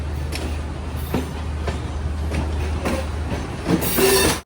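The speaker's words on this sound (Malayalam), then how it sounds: "അഞ്ചേ 35 ട്രെയിൻ ഇതാ ഗോൾ സ്റ്റേഷനിലേക്ക് എത്തിയിരിക്കുകയാണ്" The Galu Kumari Express rolls into Galle station on Sri Lanka's coastal line, wheels clacking in a steady rhythm over a low engine drone, with squeals rising near the end.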